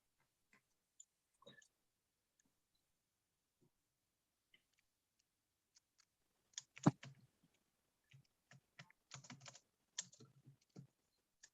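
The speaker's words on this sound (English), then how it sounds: "This time typing it." Quiet, sparse keystrokes on a computer keyboard, scattered single taps early on, then denser bursts of clicking in the second half, close and faint.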